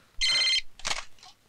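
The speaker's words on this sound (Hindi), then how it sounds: "Shit, phone." A telephone rings in short electronic bursts, one long trill followed by two shorter ones, loud and close with no talk over it.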